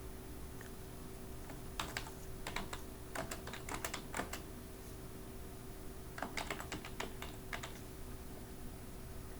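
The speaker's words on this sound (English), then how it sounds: "suppose say I type something here" Quick bursts of keystrokes on a computer keyboard while editing a Moodle web page, clustered around the middle and again near the end over a quiet steady hum.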